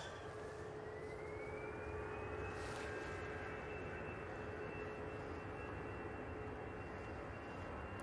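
Airliner jet engines spooling up for takeoff at Manchester Airport, a steady distant roar with a rising whine that climbs and then holds, fairly faint and continuous with no talk.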